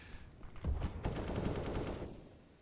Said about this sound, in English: Bullets whizzing by him. He's getting an absolute haircut.